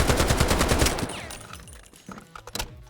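Automatic gunfire from a SCAR rifle in the video game Delta Force, a loud rapid burst for about a second that trails off, followed by a few scattered later shots and game effects.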